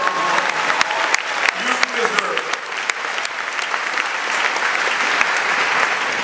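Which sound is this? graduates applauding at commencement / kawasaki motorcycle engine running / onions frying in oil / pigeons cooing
graduates applauding at commencement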